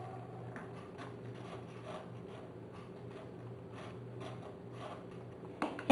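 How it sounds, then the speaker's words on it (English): A Madagascar vanilla pod grated into sugar, giving a steady run of soft, rhythmic rasping strokes close by, each short scrape repeating about twice a second, followed by a brief louder knock at the end. "And we grate like this and we put in the sugar."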